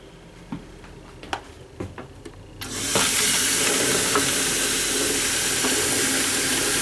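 Water running from a faucet inside a 2024 Cherokee 26EV travel trailer, fed by the onboard water pump. A few scattered clicks precede a sudden loud, steady rushing flow that continues to the end.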